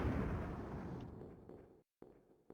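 A big in-game explosion near large beer kegs gives a loud broadband boom that rumbles and fades over about two seconds, followed after a brief silence by small debris pops and cracks.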